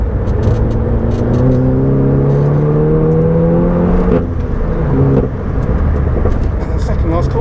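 A Mk7 VW Golf GTI Clubsport S in race mode revs hard on a track lap. Rising engine notes climb through the gears with a brief dip at a shift, heard from inside the car, while a voice speaks over it.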